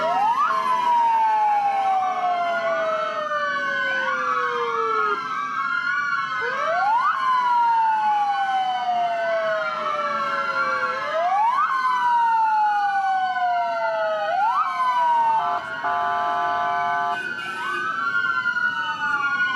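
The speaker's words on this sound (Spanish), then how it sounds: "las propias ambulancias activaron sus sirenas para manifestarse aquí en el Hospital El Pino" Several ambulance sirens wail together in a protest outside Hospital El Pino in San Bernardo, overlapping rising and falling tones repeating in loud, close cycles without talking.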